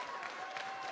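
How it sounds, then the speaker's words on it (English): Audience applause at a live show, a steady, dense wash of clapping filling the whole moment without pause. "A standing round of applause if you think he belongs in my kitchen."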